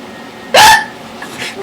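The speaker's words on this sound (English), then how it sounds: "I can't hiccup like you." A single sharp hiccup from a person, loud and close, with a brief voiced catch followed by faint breathy noise.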